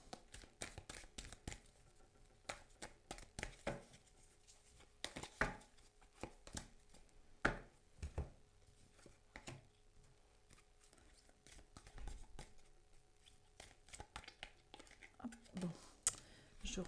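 Tarot cards being shuffled by hand, a string of soft papery slaps and riffles in irregular bursts, close and quiet, with someone speaking French between them.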